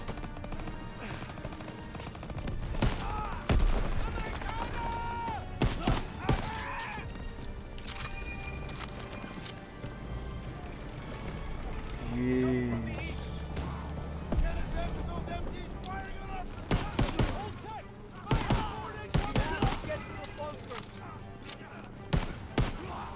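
Grenade blasts and bursts of rifle fire in a Call of Duty: WWII battlefield, loud sharp cracks scattered over a dense rumbling background, with someone talking now and then.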